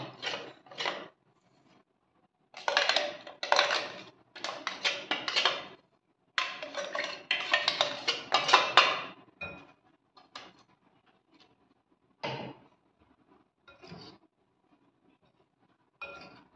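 Spoon clinking and scraping in a vessel while chilli powder, turmeric and salt are mixed for Maharashtrian pickle masala, in short bursts of clatter separated by quiet pauses.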